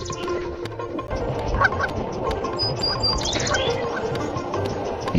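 Cartoon duck sounds amid a busy animated scene, with quacking and bird calls over a steady bed of background music and noise, moderately loud throughout.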